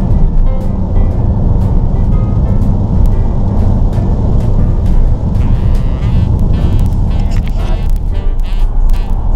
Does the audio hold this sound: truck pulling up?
yes